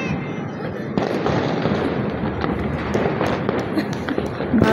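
Fireworks burst at midnight above a rooftop, a loud, continuous barrage of crackling pops and sharp bangs close by, with a few heavier booms standing out through the dense rattle.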